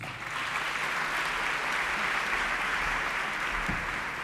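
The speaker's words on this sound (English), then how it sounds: "Please give him a big round of applause." Audience applause at the Golden Key new members ceremony in 2023, a steady, dense wash of many hands clapping that fills the room evenly and holds at a constant level throughout.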